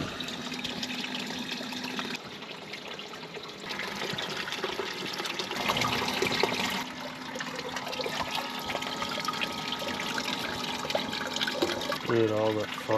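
Water running steadily through a nearly flat gold sluice box fed by a submerged pump, a constant close trickle and wash with a few shifts in flow, under people talking.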